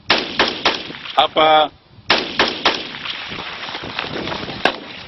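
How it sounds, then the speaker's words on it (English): Several sharp gunshots crack in quick succession during an interview in Turkana, then a burst of shouting, followed by more shots echoing loudly with a brief voice in between. "An interview is interrupted by gunshots."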